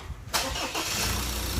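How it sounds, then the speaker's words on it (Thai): A Ford Ranger engine, just fitted with a replacement turbo, cranks briefly and catches, then settles into a steady, loud running roar close by. "สตาร์ทตัวเครื่องยนต์ดูเนาะ"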